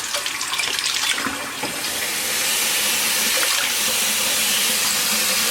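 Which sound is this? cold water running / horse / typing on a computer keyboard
cold water running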